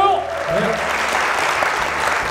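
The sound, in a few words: audience applause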